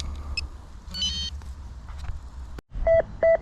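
A metal detector sweeping a forgotten garden near overhead power lines gives two short, clear electronic beeps at the end, after a low rumbling background with faint scattered tones.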